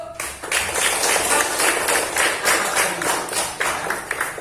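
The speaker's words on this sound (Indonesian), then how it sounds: "Beri aplaus untuk" Classroom applause for a student's question: a dense, steady patter of many hands clapping together, fairly loud and sustained for several seconds with no pause.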